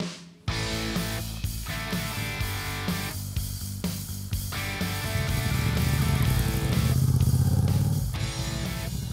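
Motorcycles sit in a parking lot at a bikers' blessing after mass, engines idling and revving loudly nearby, rising to a stronger roar toward the end with several bikes running together.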